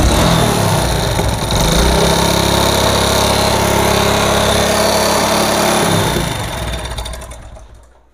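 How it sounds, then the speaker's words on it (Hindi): A worn Yamaha 4-stroke motorcycle engine runs with knocking from a loose connecting rod and rattling piston rings, a loud, steady, clattering drone held close up for several seconds before fading out at the end. "कनेक्टिंग रॉड भी इसका आवाज़ कर रहा है और रिंग पिस्टन भी इसका अंदर से लूज़ हो चुका है, वो भी खड़क रहा है"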